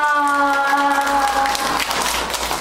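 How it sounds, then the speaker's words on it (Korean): Clapping from elderly participants in a church senior class breaks out as a held tone fades, a loose patter of hands that thins toward the end. "우리 아버님께 박수 한번 쳐주세요"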